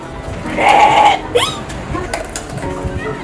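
A tethered holiday sheep gives one loud, wavering bleat up close, followed by a quieter rising call. Faint background sounds continue afterward.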